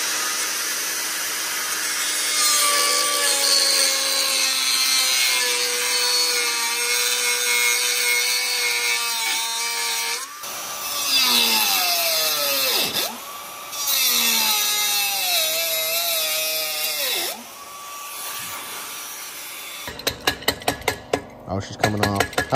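A power saw bites into the metal body panel of a Camaro next to a weld, grinding and whining at a shifting pitch through several long cuts with brief stops between them.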